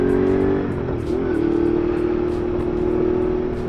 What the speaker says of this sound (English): So this is the beauty of an engine with high torques.